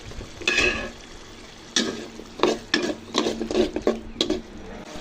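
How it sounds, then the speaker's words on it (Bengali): Chopped potatoes are stirred into an egg curry masala frying in a pan. A spoon scrapes against the pan in irregular strokes over a soft, steady sizzle. "এখন দিয়ে দেব আলু, কুচি করে রাখা আলু"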